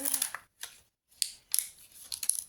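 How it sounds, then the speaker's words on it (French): Plastic packaging being pulled and torn off sheets of rubber stamps, a few short crinkly rustles separated by brief silences, close and moderately loud. "Donc là, je vais enlever l'emballage."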